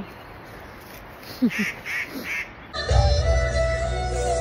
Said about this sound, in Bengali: পাখিদের আওয়াজ আর নদী বয়ে যাচ্ছে, নদীর কুলকুল শব্দ